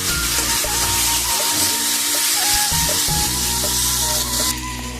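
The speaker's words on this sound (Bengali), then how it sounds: "আমি এই মশলার মধ্যে এবারে আমি মাংসটা দিয়ে দেবো, দিয়ে আমি ভালো করে কষিয়ে নেব।" Mutton pieces tossed into a spice masala and fried while being stirred give a loud, steady sizzle with scraping stir noises throughout, and no one speaks.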